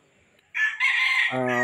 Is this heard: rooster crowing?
yes